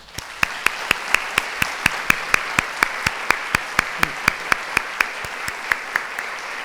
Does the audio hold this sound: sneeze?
no